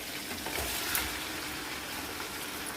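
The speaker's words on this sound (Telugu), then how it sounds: "ఇప్పుడు ముందుగా ఉప్పు, పసుపు, కారం వేసుకున్న చేప ముక్కలు ఇందులో వేస్తున్నాను." Fish pieces coated with salt, turmeric and chili frying among tomatoes in a pan give off a soft, steady sizzle, fairly quiet throughout with a slight swell near the start.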